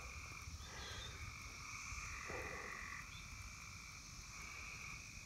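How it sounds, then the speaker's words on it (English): Tree frogs croaking in a loud, dense chorus of overlapping trilling calls that continues without a break, steady and fairly near, over low rumbling background noise. "Tree frogs are at it again."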